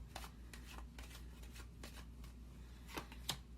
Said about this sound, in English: I need 2 cards for the Strength card, the Leo card.